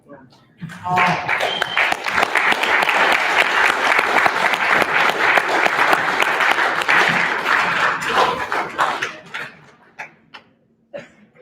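A crowd claps loudly in sustained applause for several seconds, then it thins out into scattered claps.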